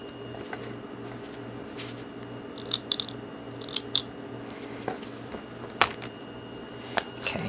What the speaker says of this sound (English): I'm just going to move this out of the way and cut the strings.